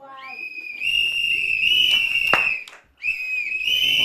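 Shrill whistles blow in long sustained blasts at a children's outdoor bike event, with a brief gap before another long blast, heard alone without talk.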